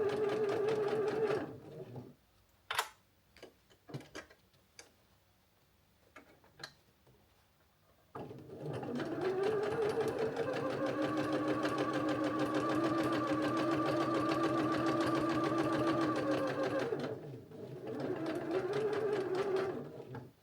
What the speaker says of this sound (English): now basically we're ready to sew all 5 of them together